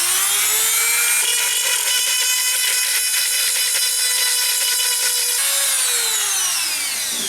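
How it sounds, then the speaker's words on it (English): A Dremel rotary tool sands the rough edges of a hole in a washing machine drum, giving a steady, loud high-pitched whine that holds for several seconds before winding down at the end. "I'm going to go around the edges now with a Dremel and just sand up some rough area"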